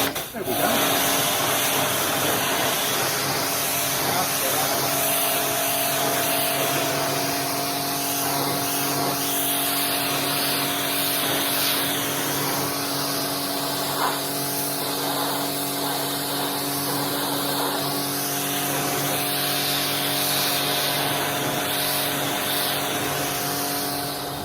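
Karcher K5 compact pressure washer spraying a wooden surface, a steady hissing jet over the pump's constant motor hum, continuous and fairly close throughout.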